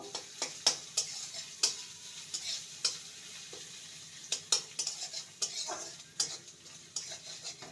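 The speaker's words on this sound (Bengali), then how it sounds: "আর দেব গ্রেট করা আদা পাতাটাকে কয়েক সেকেন্ড ভেজে নেব" Grated ginger frying in a pan for khasta kochuri filling, a soft sizzle beneath repeated sharp clicks and scrapes of a utensil against metal, irregular and close, with no speech.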